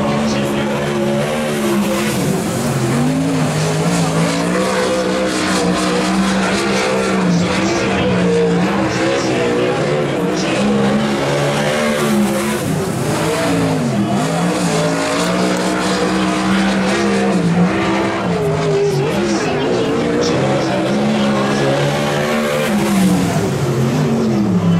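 Dirt-track race cars run qualifying laps at Placerville Speedway, engines roaring loud and constant with rising and falling revs as they pass, while a voice talks faintly underneath.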